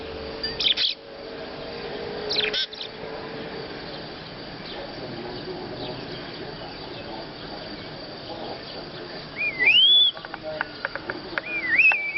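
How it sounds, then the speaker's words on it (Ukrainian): A starling sings in the open, giving a few clear chirps and rising whistled notes near the end, over steady background hiss with faint insect-like buzzing. "То співає шпак."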